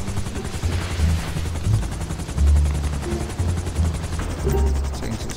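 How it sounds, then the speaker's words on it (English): Rapid bursts of gunfire in the video game GTA V rattle continuously with a deep thudding undertone, loud and close, while voices talk faintly underneath. "Someone's shooting me. Where am I being shot from?"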